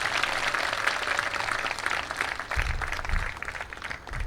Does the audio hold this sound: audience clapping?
yes